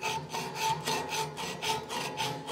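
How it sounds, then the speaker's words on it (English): A hacksaw works back and forth through steel angle iron, cutting a 45-degree angle, with about five steady rasping strokes, close and moderately loud, no voices. "I've never cut a 45 into a piece of angle iron with a hacksaw"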